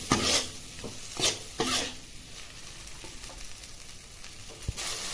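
Chopped carrots frying in a pan, a soft continuous sizzle with a few sharp scrapes of a spatula near the start and end, close up and moderately quiet.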